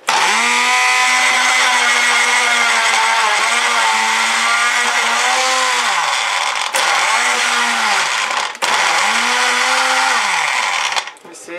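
A kitchen blender runs loud and close for about eleven seconds, its motor whine dipping and rising as it bogs down and recovers under load, blending ingredients for fufu and lamb light soup.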